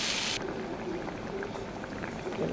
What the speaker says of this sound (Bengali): একটু ভাজা হয়ে গেলে আমি জল দিয়ে দেবো।